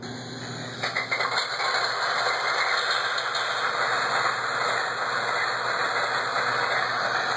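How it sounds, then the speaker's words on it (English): A V12 diesel locomotive engine on a vintage S gauge model cranks briefly, catches, then settles into a loud, steady, droning idle with constant vibration and no voices. "what you're hearing is that giant V12 diesels starting up and warming up"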